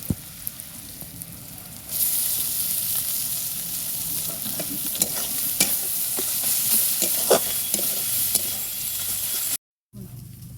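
Fish and onions sizzle steadily while being fried and stirred in a pan, with the hiss rising louder after a couple of seconds, scattered clicks of a spatula, and a brief dropout near the end.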